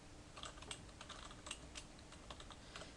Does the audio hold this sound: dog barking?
no